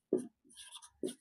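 Marker or chalk writing on a board during a Hindi-language lesson on stars, heard as two short scraping strokes with faint scratchy marks between them, close and clear with no talking.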